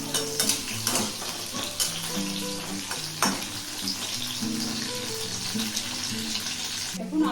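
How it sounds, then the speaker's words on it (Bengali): Potato pieces fry in hot oil with a busy crackling sizzle, interrupted by repeated clanks and scrapes of a utensil against the pan, close and fairly loud throughout. "এখন আলুগুলোকে আমি ভেজে নিচ্ছি।"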